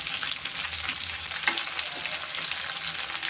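Ivy gourd sizzles steadily as it fries in a pan, with salt just added, a continuous close hiss with a few faint stirring clicks and no talking.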